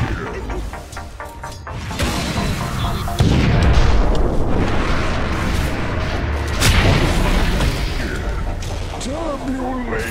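Dota 2 match with the Radiant mid tower under attack: dense bursts of impacts, booms and combat effects layered over game music, with a voice talking throughout.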